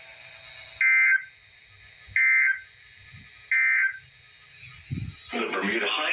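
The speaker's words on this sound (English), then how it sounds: "This has been a test of the NOAA Weather Radio Public Warning Alarm System." NOAA Weather Radio emergency alert system test: three loud buzzing data bursts in a steady rhythm over a long continuous high attention tone, ending in a short noisy crackle.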